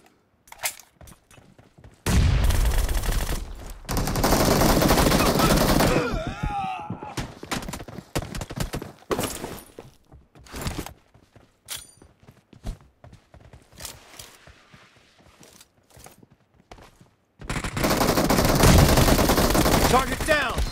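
Gunfire in a deathmatch video game, long loud bursts of rapid automatic shots broken by quieter stretches of scattered single shots and movement, close and dense.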